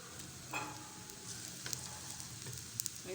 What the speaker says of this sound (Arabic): نفضل نقلب فيها تتحمر من جميع الاتجاهات